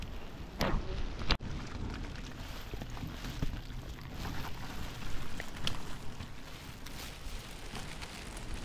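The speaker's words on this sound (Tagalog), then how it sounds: "super lakas na ng ulan" Heavy rain pours steadily on a mountain trail on Mt. Pulag, a dense constant hiss with a couple of sharp knocks early on and no voices.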